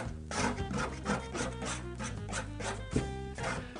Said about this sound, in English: Scrape here, there's some darker color that's coming through there.